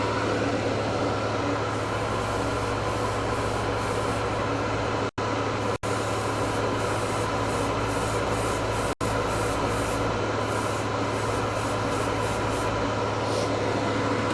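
An airbrush with a 0.38 needle sprays Gaahleri Kaleido ColorWorks metal paint at 21 psi, fed by a Serenair air compressor: a steady, close airy hiss over a low hum, broken by a few very brief cutoffs.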